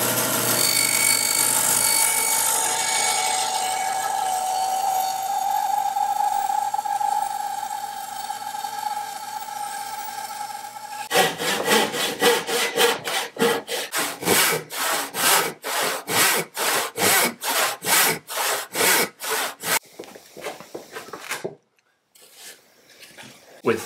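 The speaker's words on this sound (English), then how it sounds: "we're going to go over to the bandsaw and take off the majority of the waste" A bandsaw cutting waste from a wooden rafter tenon, first a continuous rasping, whining cut for several seconds, then a run of sharp, rhythmic sawing strokes before it stops abruptly.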